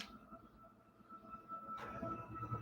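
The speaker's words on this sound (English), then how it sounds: "can you hear the train?" A train rumbles past at a distance, a low steady roar with a sustained tonal hum that swells louder toward the end.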